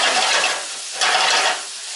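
Diced tomato stirred into stewed saltfish in a pot, two bursts of sizzling and scraping close by, each swelling then easing, with no voices.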